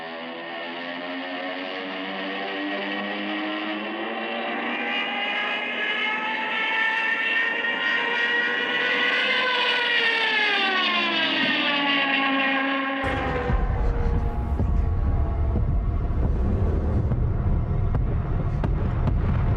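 A Junkers Ju 87 Stuka dive bomber sounds its Jericho siren, a loud sustained wail that rises slowly in pitch, then cuts abruptly into a heavy rumbling roar.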